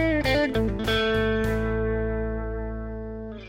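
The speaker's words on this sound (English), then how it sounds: "uses the middle and ring fingers to pluck and snap other strings to make a clucking sound kind of like" Chicken picking on electric guitar, with hybrid-picked middle- and ring-finger snaps giving clucking, percussive notes in a quick burst. A final chord then rings out and slowly fades, with no voices.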